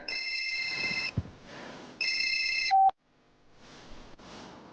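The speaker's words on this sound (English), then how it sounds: "I just dozed off when an unknown number rang" A telephone rings from an unknown number, two bursts of electronic ringing separated by a pause, then a short beep and quiet room noise.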